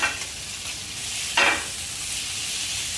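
Diced onions and cubes of tuna sizzle in a hot pan for a Réunion-style seared tuna dish, a steady close frying hiss with one brief surge as the food is stirred.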